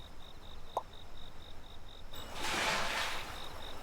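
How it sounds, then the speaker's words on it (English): Cicadas buzz through a Japanese summer, a steady high pulsing drone with a louder, hissing swell of insect noise rising toward the end. "At the peak of summertime, they get a lot of cicadas, so they do make a lot of noise."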